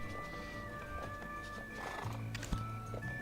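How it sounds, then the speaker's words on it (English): In Black Desert Online, a horse gives a faint, fairly distant whinny against a constant game background, then a few soft hoof clops follow. "Get back my horse."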